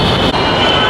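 A Bengaluru metro train pulling into an underground station, a loud, continuous rumble with a high metallic wheel squeal and a steady hum filling the enclosed space, with no talk.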